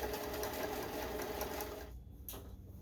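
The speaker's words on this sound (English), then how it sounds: "sew as close as the edge that you can that you're comfortable with" A sewing machine runs steadily, stitching along the edge of a fabric casserole cover, its needle whirring in a fast even rhythm close by before slowing and stopping briefly.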